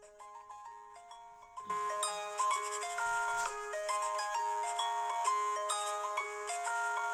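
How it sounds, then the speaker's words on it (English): A phone ringtone plays a bright repeating melody of electronic tones, starting softly and then growing fuller and louder, continuing without talk. "sorry, my phone's ringing."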